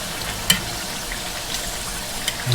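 Meat for chifrijo with chicharrón sears in a pan with a dense, continuous sizzle and crackle, close by, with a few sharp pops and stirring scrapes along the way.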